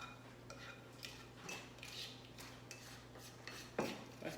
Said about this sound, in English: with this plastic spoon, I can get all the way down in there